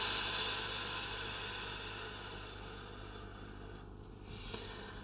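A long, steady exhale releasing breath held during a breathing exercise, a close, airy rush of hissing breath that slowly fades over several seconds with no talking.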